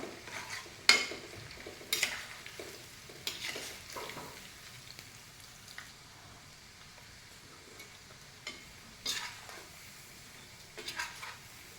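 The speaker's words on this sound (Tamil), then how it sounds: "இந்த சவுண்டு அடங்கணும் ஆயிலில்." Green cauliflower 65 fries in hot oil with a steady, faint sizzle, broken by several sharp clinks and stirring scrapes of a utensil against the pan, with no voices.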